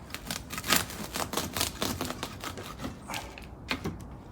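Rapid, dense cutting and snipping through a large bonsai root ball, a close run of crisp clicks and crunches with no talking.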